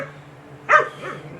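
A dog on a farm gives one sharp, loud bark at a cat, close by, over a low steady hum, followed by a fainter whine.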